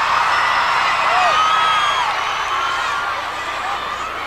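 A wrestling arena crowd roars during a Ric Flair match, a loud sustained wall of cheering with whoops and whistles rising above it, then easing slightly toward the end.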